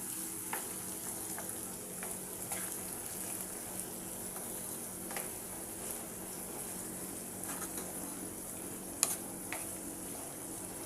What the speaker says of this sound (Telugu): ఇప్పుడు దీన్నంతా బాగా కలబెట్టేసుకుందాం